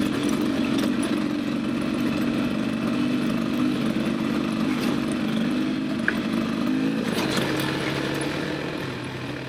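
A 2024 Beta 300 RR Race Edition two-stroke dirt bike being ridden, its engine a continuous buzzing drone close up, rising and falling slightly with throttle and gear changes, alone without talk.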